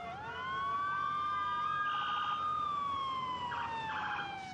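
A police siren wails in the distance in a city centre, rising and falling in a steady tone over a low background hum.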